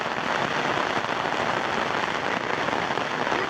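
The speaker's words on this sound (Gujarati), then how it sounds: "આ પીપળલા ગામમાં વરસાદ છે જો" Steady rain falling in Pipalla village, an even, dense hiss of drops on surfaces, loud and unbroken throughout, with no voices.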